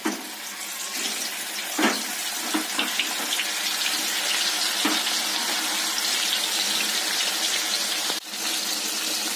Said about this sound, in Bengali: তো আগে এটাকে একটু ফ্রাই করে নিই